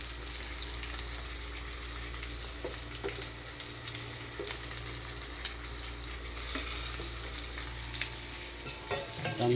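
Garlic and chili frying in a pan with a steady, loud sizzle throughout, broken by scraping stir strokes and occasional clinks of the utensil.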